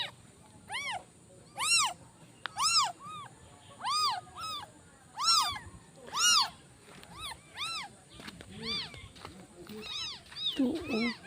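A white cat, apparently abandoned, gives a series of repeated high meows, some close and loud and others fainter, in an irregular rhythm with short gaps, while people talk quietly nearby.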